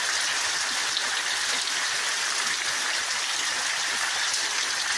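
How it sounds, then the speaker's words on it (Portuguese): Heavy downpour in Taquara, Rio Grande do Sul, Brazil: a dense, steady hiss of rain pouring without letup, loud and close, with no talking over it. "Um toró de água, que chuva aqui agora."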